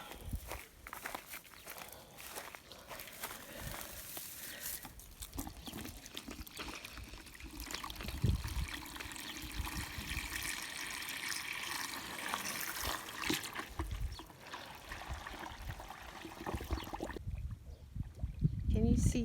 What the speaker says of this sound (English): I just turn the tap on the IBC tank into these buckets.